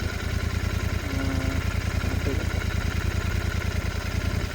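A Royal Enfield Continental GT 650 motorcycle runs along the runway of a long-abandoned airport in Tamil Nadu, its engine a steady, close, throbbing drone that holds level throughout.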